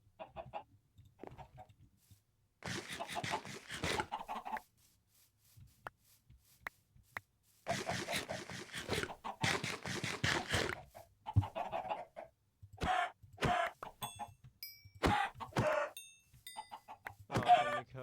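Chickens in the Minecraft video game clucking in intermittent bursts, fairly close and clear, with quiet gaps between groups of clucks and no talk.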